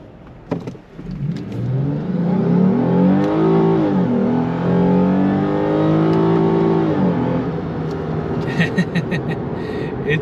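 A 2006-2013 Lexus IS250/350 F-Sport engine with a cold air intake revs hard from inside the cabin, rising and falling in pitch with a throaty intake roar, then settling back to idle.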